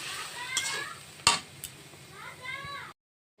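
Soaked moong dal is tipped into a hot cooking pot, giving a brief sizzle and scraping stir with a couple of sharp metallic clinks against the pan, close by, before the sound cuts out abruptly.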